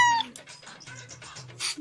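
A cat gives a short meow, followed by a few quick mewing sounds, close and fairly loud, in a brief animated-story scene.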